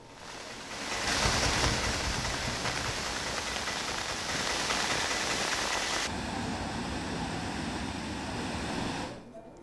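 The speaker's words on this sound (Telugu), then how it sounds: "రాత్రి నుంచి కూడా ఎడతెరిపి లేకుండా వర్షం కురుస్తుంది" Heavy continuous rain during floods in Nellore, a dense unbroken roar of downpour, loud and close, that shifts slightly in tone partway through before cutting off near the end.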